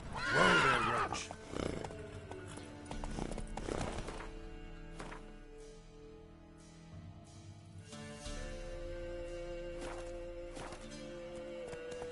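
Roach, a horse in The Witcher 3, gives a loud whinny at the start, followed by a few soft hoof clops and thuds over a steady game music bed, with no talking.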